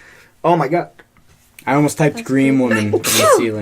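People chat casually, and near the end a single sharp sneeze bursts out close by, a sudden airy explosion mixed in with the talking.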